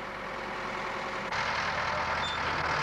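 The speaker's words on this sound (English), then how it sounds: "you can adjust the engine speed to 1200 RPM and feather in the PTO" A Ford tractor engine runs at about 1200 RPM with the PTO engaged, set in four-wheel drive with low dual power. Its steady, loud diesel drone holds throughout and grows fuller and louder about halfway through.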